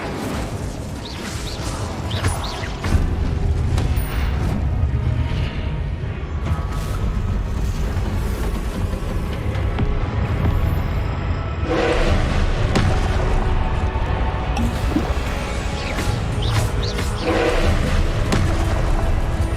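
Incendio fire spells cast over and over in Hogwarts Legacy, fiery whooshing blasts and crashing impacts in a dense, continuous stream of combat effects with hardly any pause.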